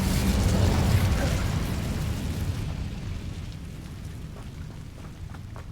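An Incendio fire spell cast in the video game Hogwarts Legacy, with a loud fiery burst at the start that fades into a softer, crackling rumble.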